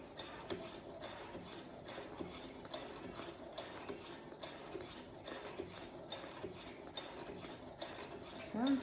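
A Brother sewing machine stitches fabric for a dress pattern with a quiet, rapid mechanical chatter of needle strokes. The pace is steady and close, with brief pauses, and the run ends with a faint squeak.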